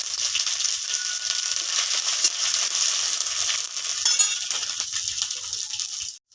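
Crushed ginger and cardamom, with dried red chilli, bay leaf and five-spice seeds, frying in hot oil for a Bengali neem shukto: a steady, close bright sizzle with a few light clinks of a utensil and no talk.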